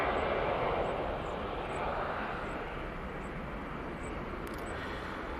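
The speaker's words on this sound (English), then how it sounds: "That's the EasyJet" An EasyJet Airbus A320-200 taking off from Manchester Airport, a broad steady jet engine roar heard from a distance, loud and sustained throughout.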